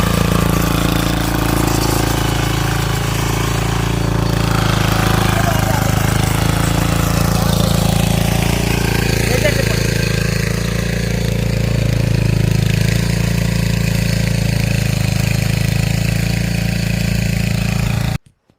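Steady, loud drone of a diesel power tiller engine running without a break, a deep low rumble with mechanical rattle on top, close by and alone.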